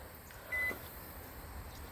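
A Hamilton Beach microwave gives a single short, clear electronic beep while its kitchen timer is set, over a quiet steady room hum.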